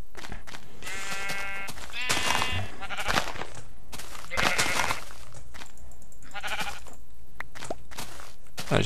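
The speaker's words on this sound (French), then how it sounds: "Une pour faire mon spawner de moutons." Several sheep bleat from a mob spawner in a modded Minecraft-style survival game, the harmonic cries overlapping in quick bursts across the stretch, loud and close with no talk over them.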